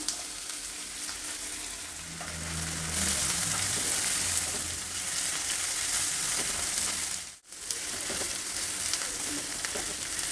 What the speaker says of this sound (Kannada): ಈರುಳ್ಳಿ ಬಟಾಣಿ ಎಲ್ಲ ಚೆನ್ನಾಗಿ ಫ್ರೈ ಆಗಿದೆ